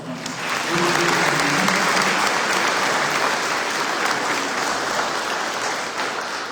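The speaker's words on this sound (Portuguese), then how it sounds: "Uma salva de palmas." Applause from a church congregation at a Polish-language Mass, a dense, sustained roar of hand claps filling the space from start to finish, with a few faint voices beneath.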